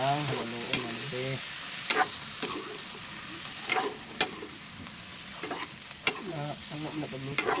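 Squid adobo sizzles in a pan while a utensil stirs and scrapes it, sharp intermittent clacks against the metal punctuating a soft, steady fry.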